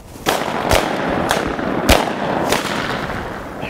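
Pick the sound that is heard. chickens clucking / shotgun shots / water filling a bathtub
shotgun shots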